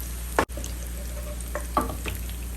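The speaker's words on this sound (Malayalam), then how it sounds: "ഒരു ഗോൾഡൻ ബ്രൗൺ കളറിൽ നമുക്കിതിനെ ഫ്രൈ ചെയ്തെടുക്കാം ഉള്ളി നല്ല ഗോൾഡൻ ബ്രൗൺ കളറായിട്ടുണ്ട്" Onions frying in oil until golden brown, a steady close sizzle with a sharp scrape or stir near the start and more clinks of a utensil against the pan later.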